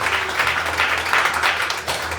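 A church congregation applauding during a Spanish-language sermon, steady continuous clapping from many hands filling the room.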